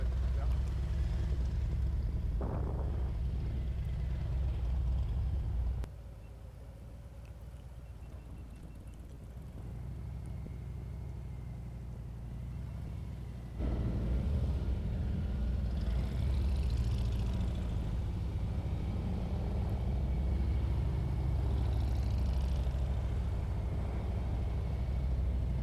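A Harley-Davidson Street Glide motorcycle working through a riding practice course, its engine rumbling steadily nearby at low speed, dropping quieter and then swelling again, with someone talking over it.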